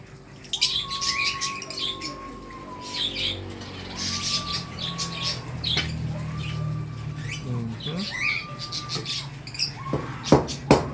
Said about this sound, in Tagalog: Kung anong klaseng mga African lovebirds to.